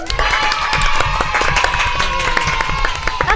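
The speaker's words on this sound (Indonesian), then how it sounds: "Tepuk tangan dulu" A studio audience claps and cheers for three costumed male guests on a chatty Indonesian talk show, steady dense applause with shouts over a bright musical bed, close and loud throughout.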